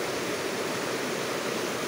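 Murky river in Montenegro, Quindío, Colombia, rushing steadily with a dense, constant broadband roar, loud and close, with no voices over it.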